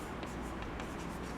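During a physics lesson, a pen or marker scratches out a few short strokes at an even pace, quiet and close, with a low steady room hum underneath.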